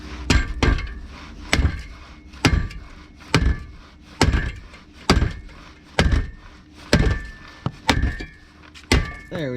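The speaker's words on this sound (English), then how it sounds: "The trusty hammer never fails me." A hammer strikes a 2003 Jetta 1.8T muffler in loud, evenly spaced blows, about a dozen ringing clanks with a brief metallic ring after each.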